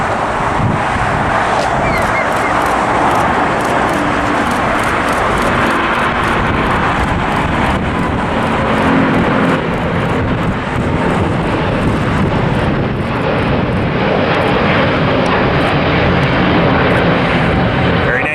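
Airliner taking off from LAX, a loud, steady broadband jet engine roar filling the whole stretch with wind buffeting on the microphone and occasional faint talk underneath.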